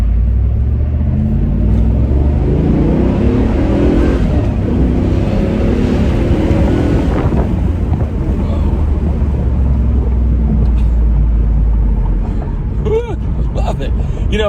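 A 1997 Camaro Z28 30th Anniversary with a six-speed manual and a 285-horsepower V8 idles with a deep, loud rumble, swelling as it revs and settling back, while someone talks over it.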